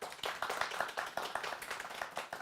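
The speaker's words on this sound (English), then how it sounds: "Let's give a round of applause for David Underwood." Clapping from a live interview audience welcoming a guest who worked behind the scenes on Star Wars and Big Brother. Steady, close claps stay fairly even throughout, with no talking.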